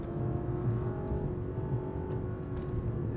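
A Lexus LS460 F Sport engine pulling hard under acceleration, a smooth sustained drone heard from inside the car, steady and moderately loud, with gear shifts blending in without a clear break.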